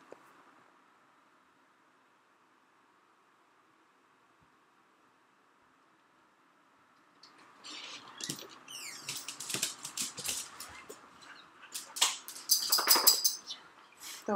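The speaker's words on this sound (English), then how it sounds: "Those are my dogs." Dogs start up after a long near-silent stretch, sharp barks and scrabbling sounds coming in irregular bursts that grow louder toward the end, with no one talking.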